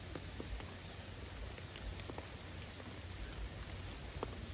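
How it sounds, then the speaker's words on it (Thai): Continuous rain falls steadily outdoors, an even hiss with occasional distinct drops hitting leaves and surfaces nearby. "ตอนนี้ฝนตกนะ"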